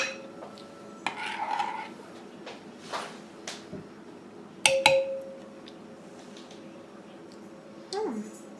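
Spoons scooping and tapping at a purple sweet potato pie, a scattering of light metallic clinks and scrapes against a dish, with faint speech in the background.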